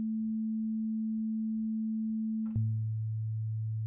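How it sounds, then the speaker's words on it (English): A steady electronic pure tone holds alone, then jumps to a different pitch with a brief click and continues as a clean, sustained note. "Now I'm going to play double it, the octave above it, same note, but twice as high."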